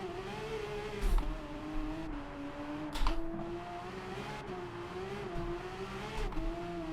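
A Porsche GT3 RS drives and drifts on snow in Gran Turismo 7, its engine a steady, close drone that rises and dips in pitch, with a few brief bursts of noise and no talking.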